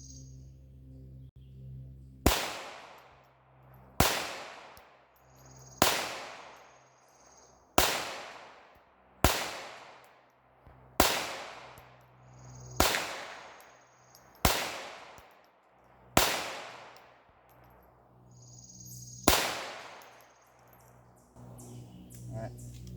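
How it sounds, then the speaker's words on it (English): A .22 pistol fired at a clay target 100 yards away outdoors, ten sharp, fairly faint reports spaced a couple of seconds apart, each with a short decaying tail. "just start sending some more rounds at it and see how we do."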